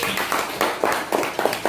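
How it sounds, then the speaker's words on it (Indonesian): Classroom applause for a student, a run of rhythmic group hand claps in roughly even beats, moderately loud and close, with no talking over it. "Tepuk tangan dulu untuk Restu"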